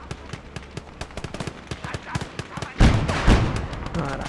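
Repeated gunfire from a tank combat video game firing HE rounds, a run of sharp evenly spaced shots followed by two heavier, louder booming blasts near the end.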